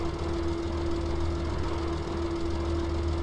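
A tractor engine in Farming Simulator 17, slowed by mud while driving across a field, holds a steady low drone with a constant tonal hum throughout and no talk over it.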